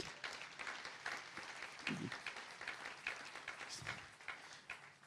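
A church congregation applauds in a faint, steady patter of many hands, heard from a distance in a reverberant hall.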